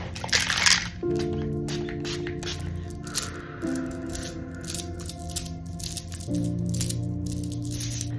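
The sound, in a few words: spraying shamanic cleansing spray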